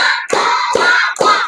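Three quick hand claps in a classroom clapping game ring out at an even rhythm, close and loud, with voices sounding between them.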